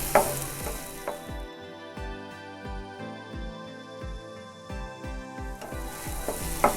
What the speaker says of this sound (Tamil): நல்லா இந்த மாதிரி நல்லா கைவிடாமல் நல்லா இந்த மாதிரி கிளறி விடும்போது நல்லா குட்டி குட்டியாக நமக்கு இந்த முட்டை பொரியல் வந்து வந்துடும்